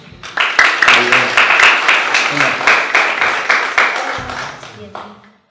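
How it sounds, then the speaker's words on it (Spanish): An audience at a youth theatre showcase gives a short burst of clapping, loud and close, which fades out after a few seconds. "Por favor, un aplauso."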